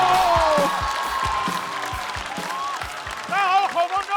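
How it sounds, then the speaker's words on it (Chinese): Applause from a comedy show audience fills the hall, broad and continuous, with music playing and a voice over it near the end. "掌声有请！"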